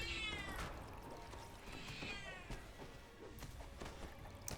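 A cat meows repeatedly in the Ravenloft video game, several drawn-out calls over a busy game soundscape with thuds and clicks, no talking.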